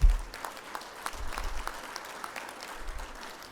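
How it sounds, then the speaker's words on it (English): An audience at the 2023 Canadian Beef Check-Off Agency AGM claps for Canada Beef's 50th anniversary, a moderately faint, steady patter of many hands from a seated crowd. "So I think that deserves a round of applause."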